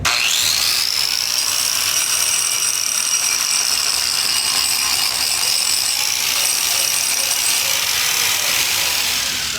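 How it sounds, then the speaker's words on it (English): A grinder works over a cured epoxy floor coating during a touch-up repair, giving a steady, loud, high-pitched abrasive whine that holds for the whole stretch with no voices over it. "So I'm just gonna try to grind this thing smooth like this."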